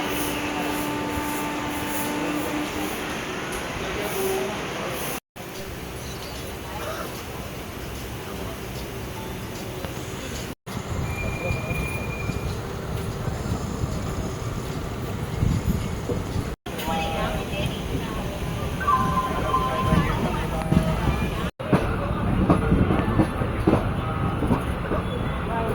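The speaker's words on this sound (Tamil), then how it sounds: "Tirunelveli Express is ready to leave from platform number 9." Tambaram–Tiruchirappalli special express train departing from a station platform, a steady broadband rumble of moving carriages with faint rail clatter, at moderate loudness under a station announcement voice throughout.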